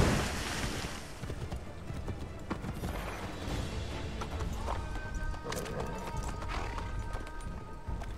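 Horse hooves clip-clop steadily in an Assassin's Creed 3 game scene, a continuous galloping patter mixed with ambient game noise and a wash like surf, running under the whole stretch.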